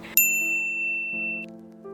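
A bright notification bell dings once near the start, its clear tone ringing out and fading over about a second, with a soft chime layered over a steady musical backdrop.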